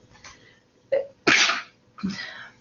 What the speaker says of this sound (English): then I might get you sick with that sneeze